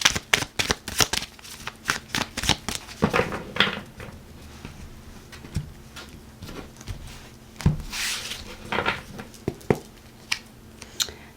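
Tarot cards being shuffled, with crisp repeated riffling flicks and soft slaps in quick clusters, close and clear, with no talking.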